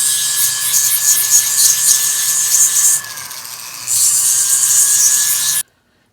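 Steady raspy rubbing of sandpaper on a hard surface, continuous with a brief lighter pause midway, then stopping abruptly.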